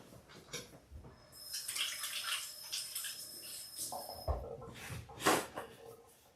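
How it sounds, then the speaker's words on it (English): Brine draining from a can of jackfruit, a faint trickle and splash of liquid running out in uneven pours, quiet and close. "So I'm going to drain out the water,"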